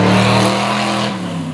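A GMT400 project truck's engine, running lean, revs loudly up close: a strong sustained roar that holds steady, then its pitch dips and eases slightly toward the end.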